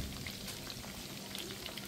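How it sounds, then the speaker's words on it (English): Spicy ranch wing sauce simmering in a pan as it is stirred, a quiet, steady sizzle and bubbling with light scraping, no voices. "So we're going to give this a good stir. Just let this cook for probably about maybe 2 minutes or so, stirring"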